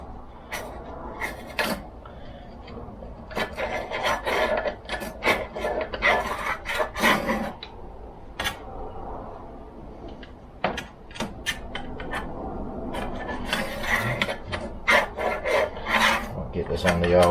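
A ruler scrapes crusty deposits out of a neighbour's chainsaw part in a series of rough, rasping strokes, close and fairly loud, with irregular bursts and short pauses between them.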